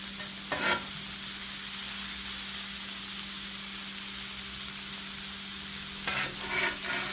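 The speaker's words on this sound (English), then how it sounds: "we're going to mix the onions into the pulled pork" Onions being stirred into pulled pork on a hot griddle for a cheesesteak, with a steady faint sizzle and two short bursts of spatula scraping near the start and end.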